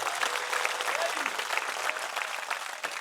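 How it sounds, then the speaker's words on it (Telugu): Steady applause from a crowd at a Shiva–Parvati wedding ceremony at a temple, loud continuous clapping that sustains throughout, with some voices mixed in. "ఒకసారి గట్టిగా చప్పట్లు కొట్టాలి"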